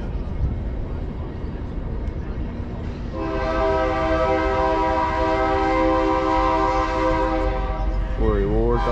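A loud train rumbles past, its horn blaring in long sustained harmonic tones through the middle of the clip over steady rail noise.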